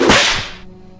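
A single loud, sharp whip crack sound effect snaps close up, then trails off in a brief fading swish.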